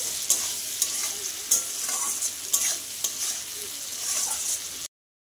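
Onion and tomato fry in a pan with steady sizzling, while a utensil scrapes and stirs in sharp, regular strokes before the sound cuts off abruptly.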